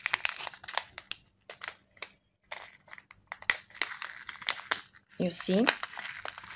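A plastic bead package being cut and pulled open during a beading-supply unboxing, giving close crinkling and tearing rustles in short bursts, loudest near the end, with a voice talking throughout.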